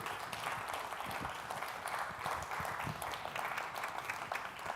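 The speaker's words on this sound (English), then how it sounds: "can we please have a round of applause for our program leaders?" An audience claps for its program leaders at a synagogue scholar-in-residence weekend evening, a steady, even wash of applause that holds throughout, fairly soft and distant.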